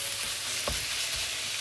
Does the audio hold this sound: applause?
no